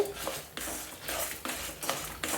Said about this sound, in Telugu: ఇప్పుడు రెండు స్పూన్లు ధనియాలు వేసుకోండి వేపుకోండి